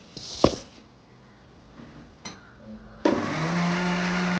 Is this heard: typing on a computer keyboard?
no